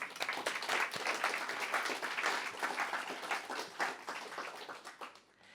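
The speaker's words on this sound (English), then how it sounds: "So give yourselves a round of applause." Audience at a community variety show marking a volunteer centre's 50th anniversary applauds with dense, sustained clapping that fades out toward the end.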